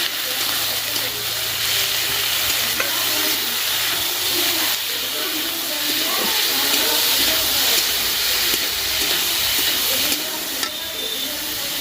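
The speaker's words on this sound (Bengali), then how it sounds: "কিমাটাকে একটু নাড়াচাড়া করে" Chicken mince tossed onto onions in a pan is stirred and fried, a continuous hiss and sizzle with soft scraping of the spoon, close and steady.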